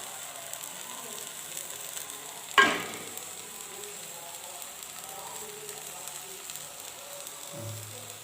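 Mysore masala dosa cooking on a hot pan, a soft continuous sizzle with one sharp clatter near the start and a low knock near the end.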